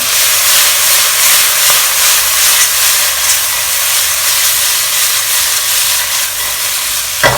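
Shrimp and spring onion sizzle loudly in a stir-fry wok, a strong, continuous steamy hiss that holds steady throughout, with a faint clatter near the end.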